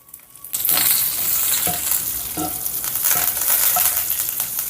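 A loud, hissing burst of frying starts as a tempering hits two tablespoons of hot oil in a pan: chana dal, urad dal, mustard seeds, cumin, dried red chili pieces and curry leaves, with scattered pops and crackles throughout.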